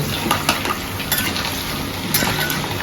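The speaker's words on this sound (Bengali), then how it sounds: "তেলের মধ্যে নাড়াচাড়া করা হচ্ছে, কিছু সময় ধরে ফ্রাই করা হবে।" Potato and pointed gourd stirred while frying in hot oil give a steady, close sizzle, with light scraping and utensil clinks now and then.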